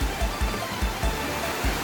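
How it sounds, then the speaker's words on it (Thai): Continuous broadband rush of water flowing from a spring down into the Chanod waterfall, steady and close, with periodic low surging pulses and no voices. "น้ำที่ไหลมาเนี่ยเป็นน้ำจากบ่อน้ำพุทธครับ แล้วก็ไหลลงมาที่น้ำตกชะโนดนะครับ"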